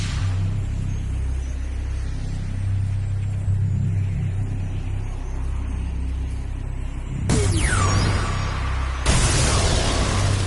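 Engine of the Tomb Buggy vehicle in a Skylanders video game, a steady low rumbling drone that swells near the end with bursts of louder whooshing, booming effects.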